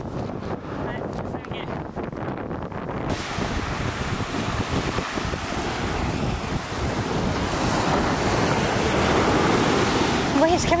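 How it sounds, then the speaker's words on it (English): Ocean waves surge and break on a beach in a continuous roar, with heavy wind noise buffeting the microphone, growing louder toward the end. "Big wave come to get you."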